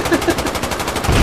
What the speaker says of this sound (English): Who the hell's up here shooting me?